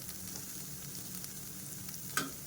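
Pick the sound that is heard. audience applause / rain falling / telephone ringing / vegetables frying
vegetables frying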